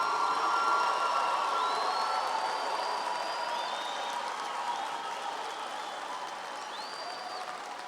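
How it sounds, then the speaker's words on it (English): Crowd in the stands applauds graduates at a Faculty of Health Sciences graduation ceremony, a sustained, fairly even roar of clapping that slowly fades slightly, with faint high tones drifting above it. "give our graduates a last round of applause"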